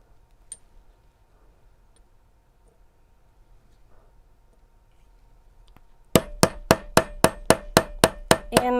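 Copper earring components are hammered in a steel dome maker. After several seconds of near silence, about nine sharp, ringing metallic strikes follow in a steady rhythm, loud and close.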